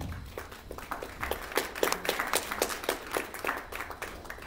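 Applause at a ceremony for a strata property system launch in Selangor: a crowd claps steadily and fairly faintly, dense and continuous, with a few louder individual claps.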